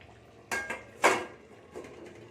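A few brief clattering scrapes of a spoon stirring potato and pea vegetable curry in a pan, with two sharp clinks close together and a softer scrape later, nearby and fairly quiet.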